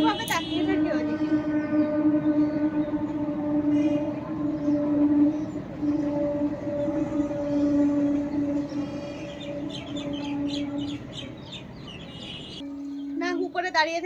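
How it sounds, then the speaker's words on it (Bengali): A passing train heard from a rooftop on a sunny day, a long sustained horn-like tone with steady rumbling underneath that cuts off near the end, loud and close. "এই যে ট্রেন যাচ্ছে আওয়াজ পাচ্ছি"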